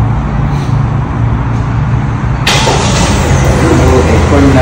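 An S70 Flagship X car engine starts by remote key, a loud steady idle hum close by that swells with a sudden broadband burst partway through and carries on running.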